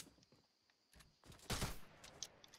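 Fortnite gunfire crackles in a quiet bursts, a few sharp shots early then a louder rapid flurry in the middle, fading into scattered faint pops.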